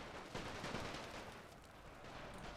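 Rifle infantry gunfire in a WW1 Russia versus Ottomans battle in The Great War: Total War, heard as a dense, continuous roar of distant volleys and crackling shots with no clear gaps.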